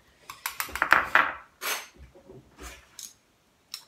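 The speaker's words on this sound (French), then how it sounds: "Je vais laisser la cuillère pour le miel." A metal spoon clinks against a small jar while scooping mint honey for a lip scrub. The taps come close and bright in a quick cluster, then a few scattered clinks follow with no talking.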